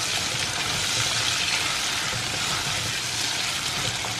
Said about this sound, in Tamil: மிச்சம் உள்ள அந்த பாதி வெங்காயத்தை ஆட் பண்ணிடலாம். கூடவே தக்காளி பழம், ஒரு தக்காளி, அதையும் ஆட் பண்ணி நல்லா மிக்ஸ் பண்ணிடுறோம்.